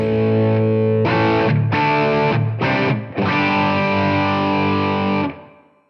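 Distorted electric guitar played through a TONEX One pedal using an Orange Rock amp tone model, loud sustained chords in several bursts with short gaps, ringing out and fading at the end.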